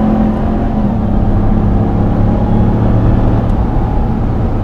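Ram 1500 TRX pickup truck launching and accelerating, a loud, continuous deep engine roar with whirring drivetrain, close and steady throughout with no talk.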